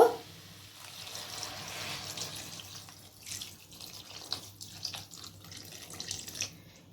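Water poured into a cooking pot of soybean curry makes a quiet, uneven splashing trickle with faint clinks.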